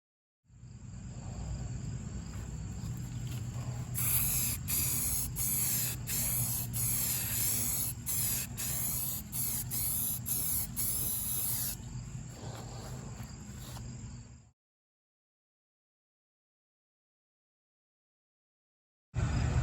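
Spray can laying primer onto a Jeep hood: a loud, close, continuous hissing spray held for about ten seconds with brief pulsing breaks, cutting off abruptly into silence before a short burst returns at the very end.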